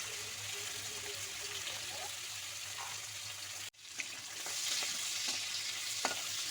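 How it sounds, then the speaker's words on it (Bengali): Shrimp frying in hot oil in a pan while being turned over, a steady close sizzle with occasional scraping and stirring noises, one brief cut near the middle, no voices. "এইভাবে উল্টে পাল্টে সুন্দর করে লাল করে কিন্তু ভেজে নিতে হবে।"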